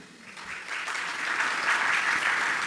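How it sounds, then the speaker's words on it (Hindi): An audience at a spiritual business talk claps together, a steady, dense patter of many hands that swells gradually and stays loud throughout, with no voices over it. "तालियां तो बजा रहे हो"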